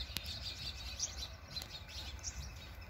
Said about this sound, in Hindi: ये गौरैया हैं